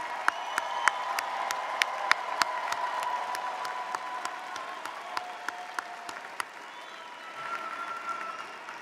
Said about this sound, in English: And it is now more applause for these wonderful graduates.